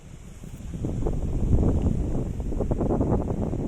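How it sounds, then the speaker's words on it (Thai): A strong wind blows across an open plot of rural land for sale, buffeting the microphone with a steady, loud, low rumble and rushing noise. Nobody speaks while it blows. "พอดีตรงนี้นะครับลมก็ค่อนข้างจะพัดแรง"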